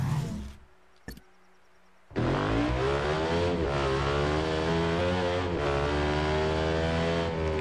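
A Ducati Flashback America 2015 motorcycle engine in the racing game Ride 2 bursts from near silence into a loud, sustained revving roar that climbs and shifts through gears at the Ulster GP circuit.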